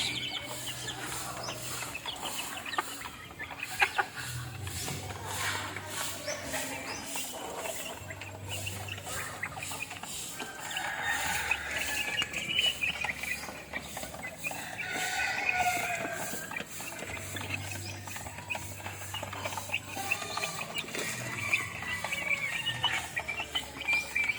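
Golden Boy backyard chickens, about three months old, cluck and murmur continuously at close range, with low repeated calls and scattered scratching.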